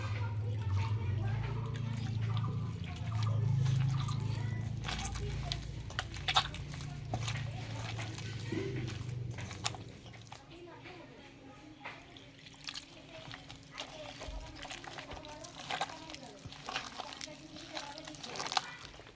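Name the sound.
mixing jackfruit fritter batter with milk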